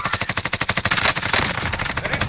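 Rapid automatic gunfire from a Call of Duty match on Rebirth Island, loud and close, with a fast steady rhythm of shots that blurs into a dense continuous burst toward the end, with no talk over it.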